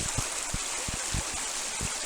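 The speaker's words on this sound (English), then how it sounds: "I'm not going to cross this stream here." Cold mountain stream flowing over granite rocks, a constant close rush of water with a few soft low bumps and gurgles scattered through it, and no voices.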